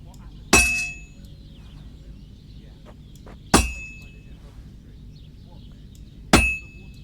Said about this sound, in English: You've got to hammer the workpiece evenly.